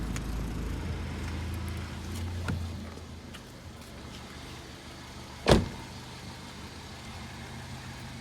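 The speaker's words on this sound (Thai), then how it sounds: "เดี๋ยวพาไปเปิดดูห้องเครื่องกันนะครับ ฟังเสียงเครื่องกัน" A used car's engine idles with the hood open, a low steady hum close by, with a sharp knock or thud partway through and light mechanical clicks around it.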